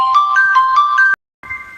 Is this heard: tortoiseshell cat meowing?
no